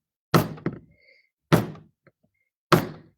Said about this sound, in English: So I am literally going to start slamming this